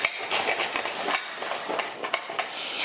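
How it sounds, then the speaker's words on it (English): Cold stick of butter rubbed against a triangle grater over a flour mixture for scones, giving a steady run of scratchy rasping strokes with small knocks, close and alone without talk. "grate up our butter and add that straight into this flour mixture"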